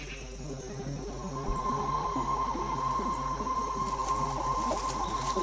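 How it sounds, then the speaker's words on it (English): A cricket chirps steadily in a Madagascar habitat, the insect out of its burrow near a collared iguana; a continuous high trill holds close and fairly loud throughout, with rhythmic lower ambient pulses beneath it. "A collared iguana observes a cricket that has abandoned the safety of its tunnel."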